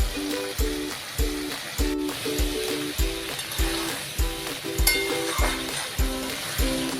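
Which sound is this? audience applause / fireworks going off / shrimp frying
shrimp frying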